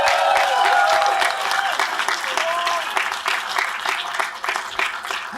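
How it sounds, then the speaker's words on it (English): An audience at a demoscene talk in San Francisco bursts into sustained applause with some crowd murmur and a faint voice underneath, tapering slightly toward the end. "Everyone clap for everyone that's watching the live stream."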